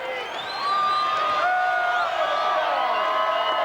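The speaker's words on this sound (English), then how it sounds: "The St. Francis crowd making as much noise as they can." The Humphrey St. Francis crowd cheers and yells during the 1992 Class D1 boys state basketball championship against Wallace, a sustained, far-off roar under a play-by-play commentator's voice.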